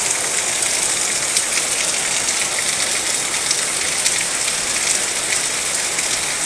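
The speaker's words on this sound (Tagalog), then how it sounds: "Malakas ang ulan." Steady, dense rain pours down without pause, a constant loud hiss of drops striking surfaces.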